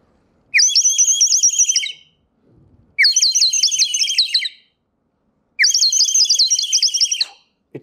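A clay bird-shaped water whistle filled with water gives three loud bursts of bubbling, warbling trills like birdsong, each lasting over a second, separated by short pauses.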